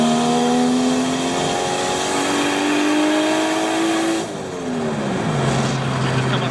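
A sedan with an external wastegate revs hard and pulls away, the engine note climbing steadily and loud before a brief gear change, then settling into a lower drone as it moves off, heard from outside the car.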